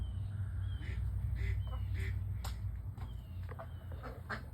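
Baby pet ducks calling outdoors: several faint, high chirping peeps scattered over a steady low rumble of background noise, with no talking.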